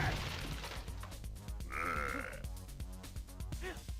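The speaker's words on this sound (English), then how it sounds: "I like that sound effect you just made there where he sounds like he's burping" A burp-like grunting sound effect from the Spider-Man 2 video game, heard as a couple of short guttural croaks mixed with game sounds and faint music.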